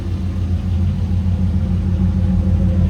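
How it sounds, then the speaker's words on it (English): A 2002 Chevrolet Corvette Z06 runs through its exhaust pipes with a steady, deep, loud rumble, close by and unbroken by talk. "Wonderful sound coming through those pipes."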